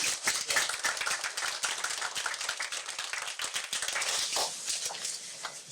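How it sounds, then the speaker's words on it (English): Applause from a small audience at a town board of commissioners meeting in Kill Devil Hills: a few seconds of dense, moderately faint clapping from several people, steady then tapering off, with no talk. "I just want to give her and her crew a round of applause for that."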